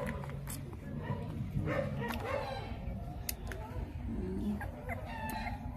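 A dog barks in a rural yard with chickens and a rooster nearby, the barks mixing with clucking fowl and a voice talking over them.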